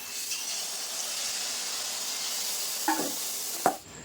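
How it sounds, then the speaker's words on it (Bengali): Mango malpua frying in hot oil, a steady bright sizzle that runs on close and even, broken by two short sharp clinks of a utensil near the end before the sizzling drops away. "এইভাবে কিন্তু সব পিঠাগুলো আমি ভেজে নেব"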